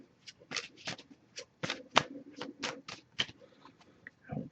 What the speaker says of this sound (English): I'll give it a few shuffles